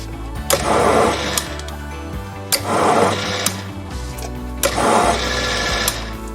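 A metal lathe running fast while a carbide tool cuts a thread: a steady motor whine close by, with three swelling cutting passes about two seconds apart.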